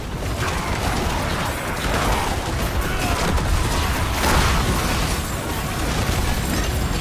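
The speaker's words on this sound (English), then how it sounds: "that's more explosions" Continuous dense rumbling with repeated bursts and booms, like rapid video game explosions layered over mechanical clatter, loud throughout.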